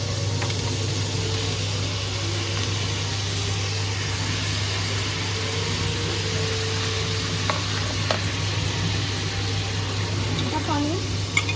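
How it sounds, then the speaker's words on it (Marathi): Paneer pieces fry in a pan for shahi paneer, giving a steady close sizzle under faint stirring and a constant background hum. "आणि आता आपण जे पनीरचे काप केले ते पनीर टाकायचे. पनीर थोडे फ्राय होते."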